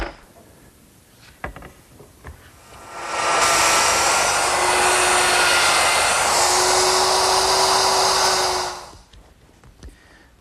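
Woodworking router cutting a groove in wood with clamps as a guide, a loud steady high whine that ramps up, holds for about five seconds with a slight pitch change, then winds down.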